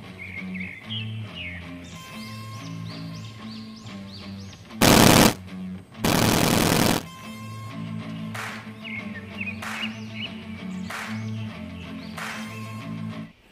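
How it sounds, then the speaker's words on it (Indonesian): Toy laser pistol firing electronic sound effects: a jingly, warbling toy tune runs throughout, broken by two loud bursts of rapid synthetic gunfire, one short and one longer. "Wow, ini pistol laser."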